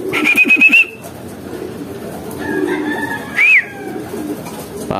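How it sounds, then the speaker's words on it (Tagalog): Pigeons coo and whistle near a loft as a racing pigeon arrives from a 255 km race, with a clear bird call early, a softer stretch, then a brief loud rising whistle, all without talking. "Second bird natin, mukhang si Yasha"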